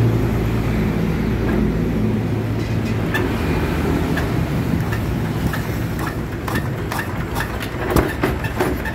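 A Chinese diesel engine runs loud and close with a dense, steady low rumble, its throttle raised into a continuous heavy drone with faint clattering on top.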